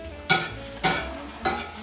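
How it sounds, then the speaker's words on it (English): Onions pan frying, with three distinct stirring scrapes spaced about half a second apart over a soft, steady sizzle, close and fairly quiet. "Today we're going to be pan frying onions."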